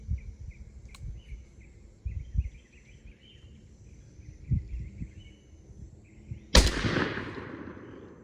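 A single loud report from a Mossberg 500 20-gauge pump shotgun with a 26-inch barrel and full choke, set outdoors among chirping insects, with a sharp blast followed by a long decaying echo.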